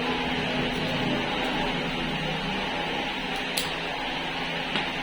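A quiet, steady clip fan hum with a soft broadband whoosh, constant throughout and close by, with a couple of faint clicks.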